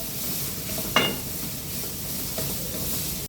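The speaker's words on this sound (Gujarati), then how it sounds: "ગાજરને પહેલાં તેલમાં સાતરી દેવાના." Carrots sautéing in oil in a home kitchen pan, a continuous soft sizzle with a sharp utensil clink near the start and a fainter scrape later.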